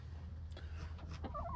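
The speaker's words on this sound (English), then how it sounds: "the chickens fight amongst themselves" Chickens and roosters outdoors, with a short, fairly faint burst of fowl calls and clucking in the second half over a steady low background hum.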